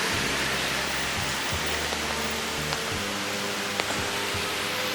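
Rain sound effect played during a stage performance: a steady, even hiss of falling rain fills the clip at moderate loudness, with a few faint clicks and no voices.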